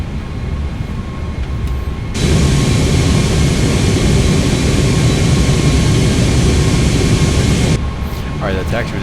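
An Airbus A319 airliner taxiing with its jet engines running, a steady loud roar heard from inside that swells suddenly, holds for several seconds, then drops back to a lower hum.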